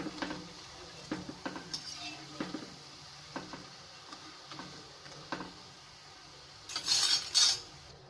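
Sorghum-flour murukku being turned in hot frying oil, with a steady low sizzle under repeated light clinks of a metal utensil against the pan, ending in a louder burst of crackling.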